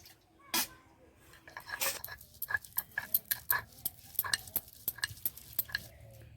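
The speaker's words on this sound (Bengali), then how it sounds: "আমি শিলে বেটে নিচ্ছি" Leftover cooked rice is ground by hand on a stone slab, giving a run of scraping, tapping strokes in an irregular rhythm, close and fairly quiet.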